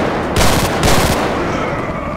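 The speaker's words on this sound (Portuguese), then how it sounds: "Ele tem metralhadora nos faróis." Machine guns mounted on an army armored vehicle in GTA V, firing two short loud bursts of rapid automatic fire close by, then a lingering noisy tail.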